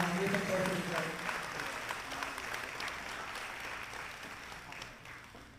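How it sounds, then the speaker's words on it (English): Audience applause at a celebration gala, a loud burst at the start that thins and fades steadily over several seconds, with faint voices murmuring underneath. "You can applaud for them."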